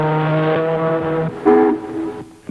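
Someone vocally imitates an ocean liner's horn for a vintage toy commercial, a low droning hoot followed by a second shorter blast, close and fairly loud.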